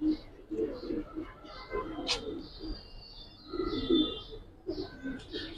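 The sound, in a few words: pigeons cooing in a loft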